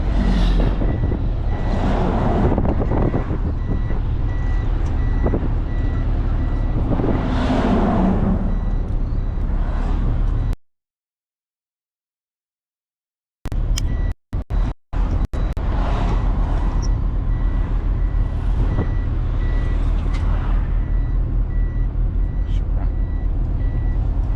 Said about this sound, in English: Now we are interacting with the trucks on this road